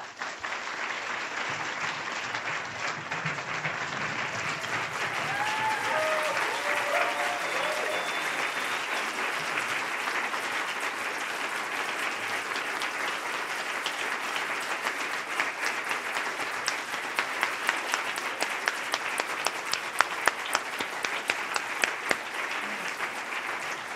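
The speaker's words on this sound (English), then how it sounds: "let's give another round of applause for Michael, Chris, and Alana" Sustained audience applause fills a hall at a university award ceremony honoring GLBT leadership, steady and fairly loud for the whole stretch, with scattered sharper individual claps standing out toward the end.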